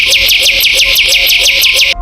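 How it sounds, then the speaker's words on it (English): A nightingale sings a rapid, evenly spaced series of about ten loud, bright repeated notes, close and clear, that stop abruptly. "Top 6. Nightingale."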